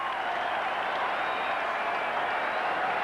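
Steady crowd roar at Fenway Park during a 1998 Yankees–Red Sox baseball game, a dense, even wash of cheering and applause from a large stadium audience lasting throughout.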